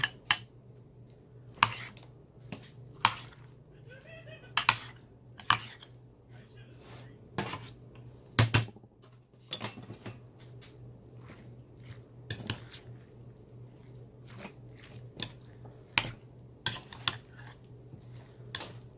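Onions for tacos being stirred in a pan, sharp metallic clanks of a utensil against the pan at irregular intervals, close and distinct over a quiet low hum, with a soft sizzle between strikes.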